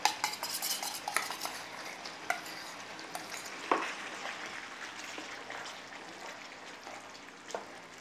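Tomato puree stirred into a hot curry pan for garlic chili chicken over a high flame, giving a steady sizzle with scraping spoon strokes and occasional utensil clinks against the pan, close and with no talking.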